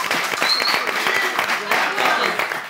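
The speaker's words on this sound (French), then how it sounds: "On applaudit les candidats, s'il vous plaît." Studio audience clapping for the contestants on a French-language TV game show, a dense steady burst with voices talking and calling out over it.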